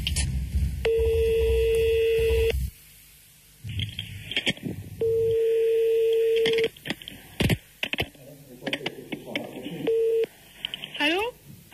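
A prank telephone call plays out as long steady phone tones and a busy-signal-like beep repeat between bursts of noisy broadcast background, with quick dialing tones near the end.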